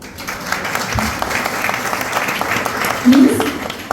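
A crowd claps in approval at a Jain heritage day gathering in Kolkata, the sustained clapping running throughout, with voices faintly mixed in.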